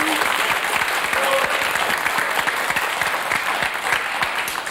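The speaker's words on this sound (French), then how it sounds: "On vous applaudit encore une fois, Claude, Anne-Marie." Studio audience applause on the French TV word game show Motus, loud continuous clapping filling the whole short stretch.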